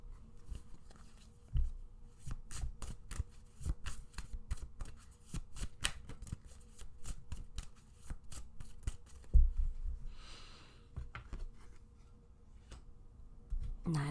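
Tarot cards are shuffled and drawn for a pick-a-card reading: a steady run of soft, close riffling clicks and card slaps, with a brief louder flutter near the end, all fairly quiet.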